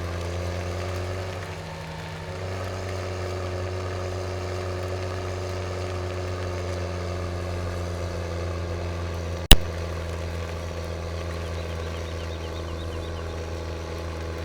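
A New Holland tractor in Farming Simulator 17 runs with a steady, low engine drone, unchanged throughout, with one sharp click partway through.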